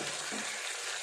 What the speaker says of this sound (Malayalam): ഒരു ഫ്രൈ പാൻ എടുത്ത് അതിൽ എണ്ണ ഒഴിച്ച് അതിലേക്ക് വെച്ച് നമുക്ക് കല്ലുമ്മക്കായ വറുത്തെടുക്കാം